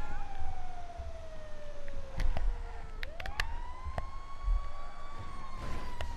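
A police siren wails in Grand Theft Auto V with a slow falling-then-rising tone over engine hum, punctuated by a few sharp clicks and knocks.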